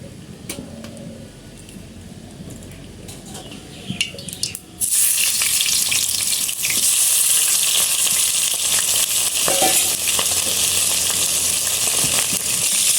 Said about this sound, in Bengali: তেল দিয়ে আমি মাছগুলো ভেজে নেব